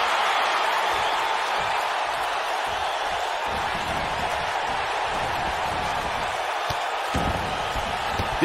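A capacity crowd in a WWE 2K19 wrestling arena roaring steadily as a dense, continuous wash of noise, with a few sharp impact-like slams near the end.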